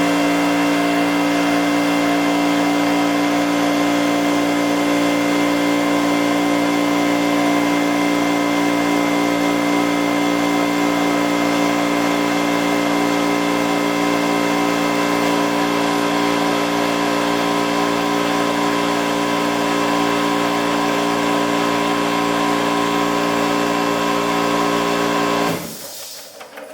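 A Märklin live steam engine, a power plant compound model, running on compressed air gives a steady, continuous mechanical whir and hiss with a constant drone that stops abruptly at the end.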